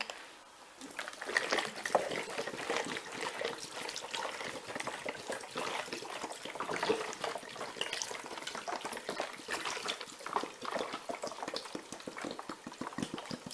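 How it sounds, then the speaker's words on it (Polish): Water poured into a pot of Asian-style duck broth, a steady splashing, bubbling pour that runs close and fairly loud for most of the clip, with no talk over it. "Jeszcze dodajemy więcej wody."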